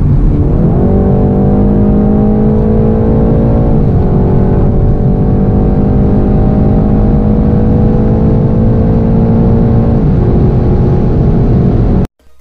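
A 2019 BMW 330i G20 M Sport with its 258 PS engine pulls hard, the engine note climbing steadily through a gear, dipping at a shift and rising again, loud and continuous before cutting off abruptly.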